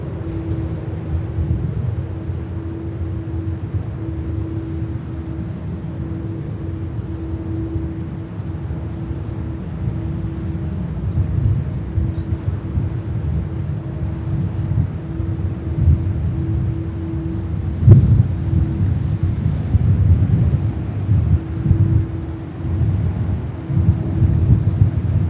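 A stormy wind roars steadily at JFK airport, a dense low rumble with a constant hum beneath, gusting louder toward the end, with no voices.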